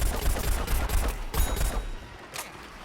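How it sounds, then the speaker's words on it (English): Gunfire in Plants vs. Zombies: Garden Warfare comes as a dense rattle of rapid shots in clustered bursts, loud at first and then thinning out. "You get to shoot at the plants while being in cover"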